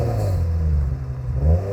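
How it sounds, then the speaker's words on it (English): Flat-six engine in a swapped Subaru GC8 with an I-Wire 3.6R conversion, revving briefly nearby with a raspy, crisp low rumble that swells again toward the end. "Give it a little rev again,"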